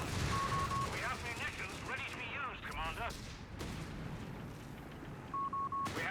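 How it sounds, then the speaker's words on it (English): An MG42 machine gun fires in Company of Heroes 3 amid a busy battle soundscape with other gunshots, while a voice talks over the moderately quiet mix. "Nice use of the MG42 to suppress the foot guards coming in."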